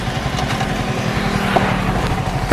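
A motorcycle rides into a children's park, its engine putting out a close, steady pulsing chug with a short louder burst at the end and no talk.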